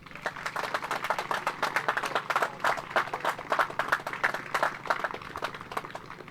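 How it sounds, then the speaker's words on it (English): A school crowd applauds at a small-town bike helmet giveaway ceremony: sustained, lively clapping from many hands that holds steady for several seconds at moderate distance, with little talk over it. "I want 2 rounds of applause, one for Mrs. Ogle and again, one for Ms. Bl"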